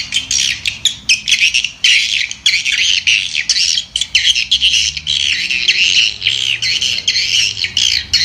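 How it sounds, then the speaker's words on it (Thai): Swiftlet calls are broadcast from a MEGA HORN HP-4000 horn loudspeaker on a rooftop, loud and close: rapid repeated shrill chirps and squawks in bursts, with no talk. "อยู่บนยอดตึกนี่เสียงจะกังวานนะครับเสียงแหลมมากนะครับช่วยในการดึงนกที่อยู่รอบ"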